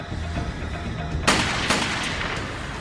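Gunshots ring out in a crime drama scene, a loud sharp crack followed by a second shot over a steady background rumble.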